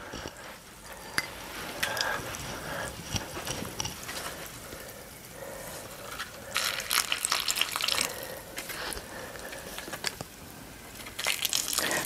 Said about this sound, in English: I'm going to go ahead and start pouring the mixture in the center and in the middle of the leaves